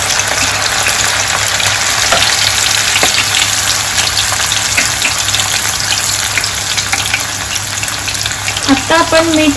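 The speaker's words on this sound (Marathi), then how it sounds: "आपण आता त्या बनवलेल्या स्लाइस तेलामध्ये सोडूया।" Banana slices for homemade chips fry in hot oil with a loud, steady, dense sizzle throughout, and a brief burst of bubbling and stirring near the end.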